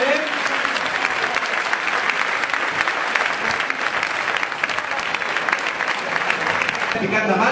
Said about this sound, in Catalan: Picat de mans i també amb un fort aplaudiment i reconeixement d'aquesta dansa.